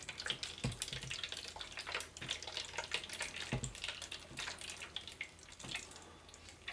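Water pours into the tank of a Click and Grow Smart Garden 3, a quiet continuous trickling and splashing with small drips and irregular bursts, no talking.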